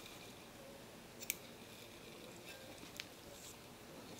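Scissors cut crochet yarn while a cushion cover is being finished: two faint, crisp snips about two seconds apart over a steady background hiss.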